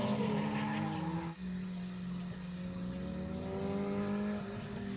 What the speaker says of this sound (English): locking up the brakes on initiation right there